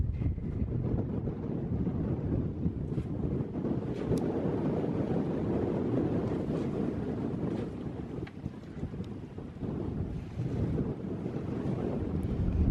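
Strong wind roaring across the microphone aboard a sailboat at sea near an atoll, a constant low rumble and buffeting with big waves and water movement underneath.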